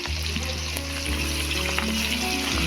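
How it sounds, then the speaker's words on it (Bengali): Chopped onion and garlic paste fry in hot oil with dried red chillies for a spinach and prawn dish, giving a dense, continuous close sizzle with light stirring noises and no talk. "পেঁয়াজ রসুনটাকে ভেজে নেবে"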